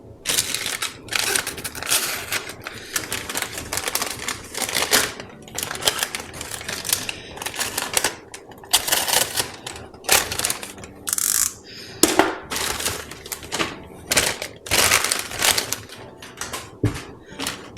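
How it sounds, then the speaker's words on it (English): A knife repeatedly cuts, slices and crinkles through the packaging of Uniball Eye colour pens, giving a dense run of sharp, close scraping and snapping sounds with no talk. "Let's take a knife and let's unbox with that."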